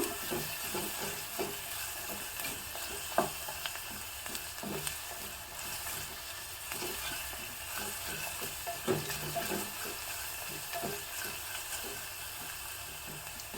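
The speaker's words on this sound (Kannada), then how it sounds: "ಈರುಳ್ಳಿ ಚೆನ್ನಾಗಿ ಎಣ್ಣೆಯಲ್ಲೇ ಬಾಡಬೇಕು" Chopped onions sizzle and soften in hot oil for a Mangalore Brahmin-style tilisaru, a steady close frying hiss with occasional stirring clicks and taps, no voices.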